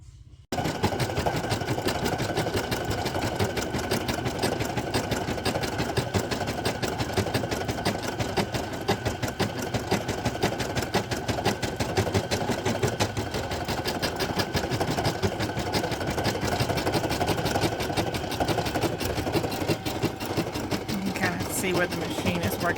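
A Brother PE800 embroidery machine stitches a birthday sweatshirt design. Its rapid, even mechanical whirring and needle clatter run loud and close the whole time, with a voice talking over it.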